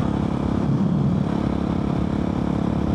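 A Husqvarna 701 motorcycle with an Arrow exhaust drones steadily at close range, its engine note holding an even, throaty hum without any clear revving.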